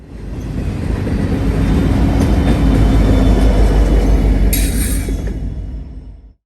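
A freight train led by an SD70 rebuild locomotive rolls past downhill at reduced throttle, a loud close rumble swelling then fading as the cars clatter by, with a brief hiss near the end.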